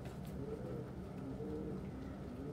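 Pigeons cooing softly in a loft during the evening, low murmuring coos that repeat in a quiet, steady rhythm over a faint background hum, with no voices present.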